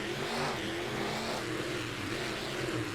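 Race trucks launch off the line at the start of a race in Pontiac, Michigan, a loud, steady engine roar building as they accelerate together, with no talk over it.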